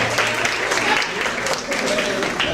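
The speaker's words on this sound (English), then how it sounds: "Let's give him a big round of applause" An audience at a 2019 community forum applauds to welcome the Mayor, a dense, steady wash of clapping from a crowd indoors that fills the whole moment at moderate loudness.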